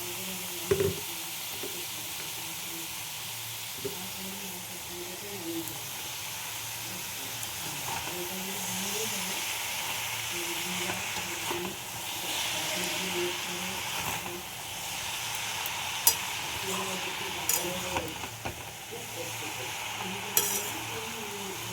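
Cabbage and peas fry in spiced masala for prawn curry, a steady sizzle and hiss running throughout with occasional scrapes and clinks of stirring, close and fairly even in level.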